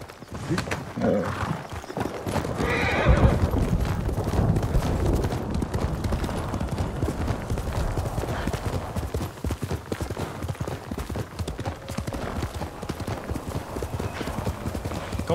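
Horse hooves clip-clop steadily through Ghost of Tsushima on PS5, with a brief neigh early on, fairly close and continuous under a busy game soundscape.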